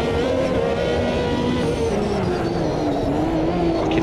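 Ferrari 333SP race car engine droning steadily at high revs in Automobilista 2, a continuous loud whine with shifting pitch as it holds speed through the bends.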